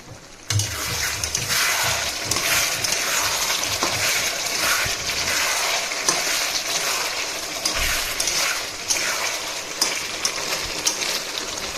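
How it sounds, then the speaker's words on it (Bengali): Mutton browning in a covered pan over low heat gives a continuous soft sizzle with occasional stirring scrapes, steady and close throughout. "এখন আমি ঢাকা দিয়ে হালকা হালকাভাবে আমি কষিয়ে নিচ্ছি মাংসটা"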